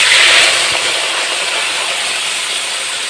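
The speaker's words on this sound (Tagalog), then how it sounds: "magigisa po tayo ng bawang mga kailyan" Garlic sautéing in a pan for Filipino dinaldalem, a steady loud hiss with no talk throughout.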